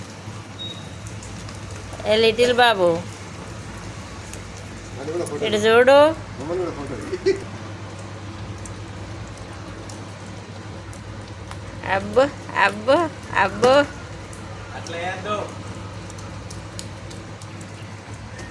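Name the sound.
rain falling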